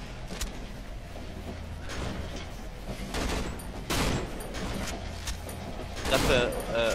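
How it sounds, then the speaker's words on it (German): Gunfire in the survival horror game Cry of Fear, set in a subway, with several loud broadband blasts amid mechanical clatter and a heavier burst near the end, under excited talk. "Er schießt mit der Shotgun"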